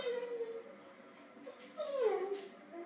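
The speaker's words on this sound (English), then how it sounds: "that was just my dog" A dog whimpers close by in a few thin, wavering high-pitched whines, the last one sliding down in pitch, faint and alone.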